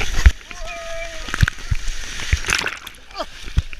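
People plunge into icy water at an Epiphany celebration in a capital city, with repeated close splashes and sloshing under excited voices and shouts, the splashes coming in irregular bursts.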